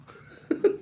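Two short, sharp coughs in quick succession near the end, close and fairly loud after a quiet moment.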